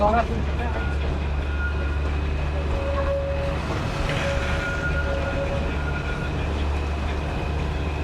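The Darjeeling toy train rolls through clouds among pine-forested hills, heard from on board as a steady, continuous rumble and rattle that stays even from start to end.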